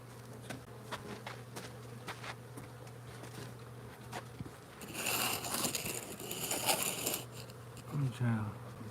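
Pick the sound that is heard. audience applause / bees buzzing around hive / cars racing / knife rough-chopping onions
bees buzzing around hive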